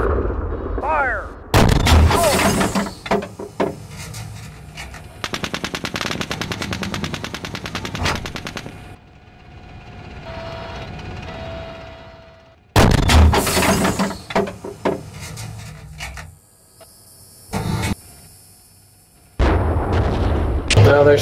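Tank gunfire in the Steel Beasts Pro PE combat game: heavy cannon blasts, rapid machine-gun bursts and loud rumbling fill most of the stretch, cutting out briefly between salvos, with radio chatter in the pauses.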